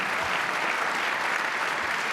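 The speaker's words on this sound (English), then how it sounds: "that's worth clapping for" An audience at a talk on living faithfully in the public square bursts into applause, a dense, steady wash of clapping lasting about two seconds.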